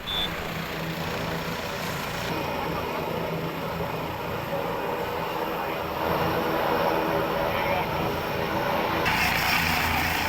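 A police rescue helicopter operating in Mulugu district during flooding makes a loud, steady engine and rotor roar that runs the whole time, swelling slightly toward the end, with no voices.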